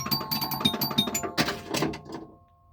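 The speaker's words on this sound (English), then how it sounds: "So check out these the chimes, how they sound. We start a game up." A Bally Night Rider pinball machine starting a game, with a rapid run of bright chime strikes and mechanical clatter that rings out and fades at the end.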